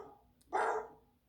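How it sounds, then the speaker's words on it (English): A dog gives one short, explosive bark at close range, alone against a quiet background. "First is the bark,"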